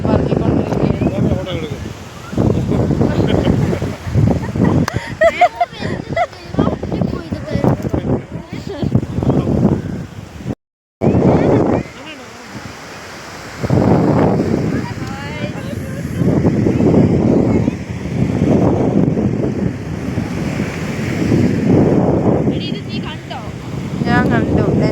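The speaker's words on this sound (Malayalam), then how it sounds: "ഒടുക്കത്തെ കാറ്റാണ്" Strong wind buffets the microphone at a beach, with gusty roaring noise and the wash of the sea beneath, loud throughout, while people talk over it.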